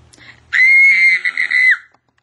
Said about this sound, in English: Yes, that was a scream